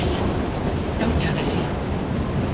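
A train rumbles along in the video game Assassin's Creed Syndicate, a steady loud roar of rolling wheels with faint metallic squeals, while a voice speaks over it.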